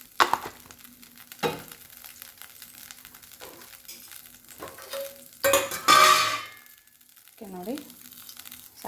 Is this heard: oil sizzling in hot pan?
yes